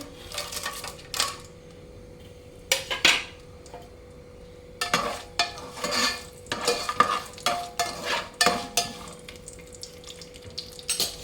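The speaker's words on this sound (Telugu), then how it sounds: "ఓకే, నెయ్యి కరిగింది. ఇప్పుడు ఇందులో మసాలాలు అన్నీ వేసుకుందాము." Whole spices frying in melted ghee for mutton biryani, a steady close sizzle broken by repeated scraping stirs and light clinks of a spoon against the pan, with brief quieter gaps.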